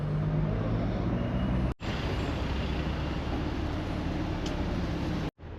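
Road traffic crawling through a traffic jam in the seaside town of Aberystwyth, Mid Wales, near the bus station: a steady, fairly loud rumble of idling and passing vehicles, broken by two brief dropouts.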